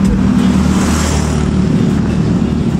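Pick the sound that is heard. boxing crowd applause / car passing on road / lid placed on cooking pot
car passing on road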